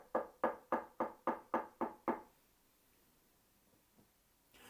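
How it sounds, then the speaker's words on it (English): Eight sharp, evenly spaced knocks strike a castle gate in quick succession, loud and close, then fade into near silence. "suddenly there was a loud knocking at the castle gate"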